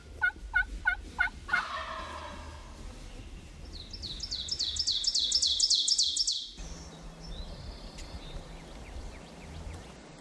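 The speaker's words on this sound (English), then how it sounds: "this turkey struts around the decoy almost like a gobbler" Wild turkey hen calling in Ontario woods near a decoy: a run of sharp, clucking yelps at the start, then a loud, rapid burst of high chirping calls in the middle, fading into a soft outdoor hiss.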